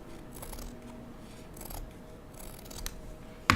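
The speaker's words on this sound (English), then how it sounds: "So I'm just going to cut little strips." Scissors snipping little strips of felt, a few soft, quiet cuts close by with faint rustling between them and a brief louder click at the very end, no talk.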